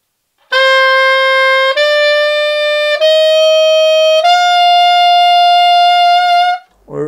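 High D held on an alto saxophone as a loud, steady, bright tone, sustained for about six seconds with small breaks and a slight pitch settle partway through, played alone.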